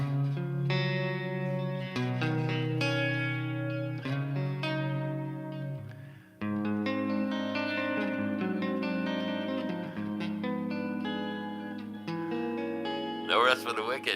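A clean electric guitar tone on a stock amp setting, shaped only with delay and reverb, rings out in sustained chords and single notes that carry a spacious trailing echo, played alone and continuously.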